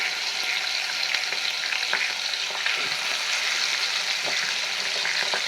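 Scaleless fish frying in oil in a nonstick pan, giving a dense, continuous sizzle with scattered sharp pops and crackles, close and fairly loud without speech.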